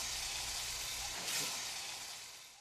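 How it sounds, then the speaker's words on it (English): Food simmers in a pan on the stove with a soft, steady sizzle and hiss that fades slightly toward the end, heard close up with no talking. "we're going to let this simmer here for another 3 or 4 minutes"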